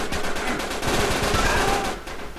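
Video game gunfire from blind firing, a rapid burst of automatic shots rattling loudly in a dense cluster over a couple of seconds.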